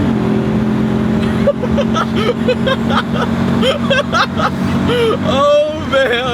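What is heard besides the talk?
Audi S5 V8 engine revving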